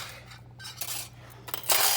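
A cheap Dollar Tree pack of silverware is handled up close, giving light metallic clinks and rattles of cutlery knocking together in several quick bursts, with the loudest jangle at the end.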